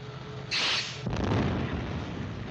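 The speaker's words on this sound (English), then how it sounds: "Torpedoes fired, sir." Torpedoes fired from a warship in a war film, heard as a sharp hiss and burst followed by a deep rumbling boom that swells and carries on. No voices are heard.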